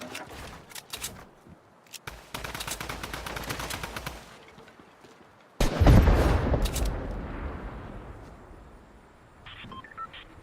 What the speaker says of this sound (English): I beat him with my AR